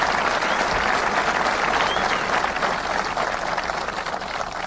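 Dense, loud audience applause at a presidential victory speech, steady and continuous throughout with a slight fade toward the end.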